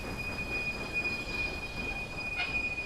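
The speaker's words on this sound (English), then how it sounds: "the first train pulls into Fort William" A train pulls into a station in the Railway Empire game, giving a steady rail rumble with a high, sustained wheel squeal throughout, heard alone.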